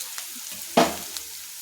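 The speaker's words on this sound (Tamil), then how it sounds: "மீடியம் ஃப்ளேமில் வைங்க வெங்காயம் நல்லா பொன்னிறமாக வதங்கி வரட்டும்" Onions sautéing in a pan over a medium flame, a soft low sizzle with one brief louder stir-like rustle in the middle, close and without talk.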